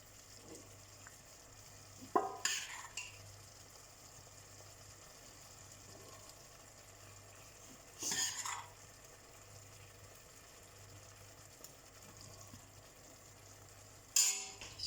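Kidney beans in sauce are stirred in a pot in three brief, quiet scraping bursts spaced several seconds apart, over a faint steady background hum.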